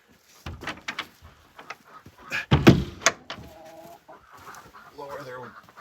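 Hens cluck in a backyard coop near the laying boxes, a close run of bursty clucks and squawks with short, tonal calls toward the end, mixed with some handling noise.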